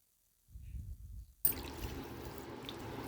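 Water is poured into a pot over cut bitter gourd pieces to boil them. A steady, fairly quiet pouring rush starts abruptly after a soft thud and continues to the end.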